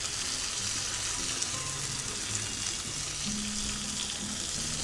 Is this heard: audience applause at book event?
no